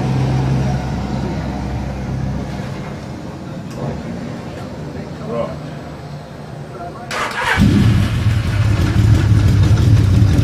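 A rebuilt Kawasaki Z1300 motorcycle engine runs without choke, a low idle rumble that steps up louder near the end, with people talking over it.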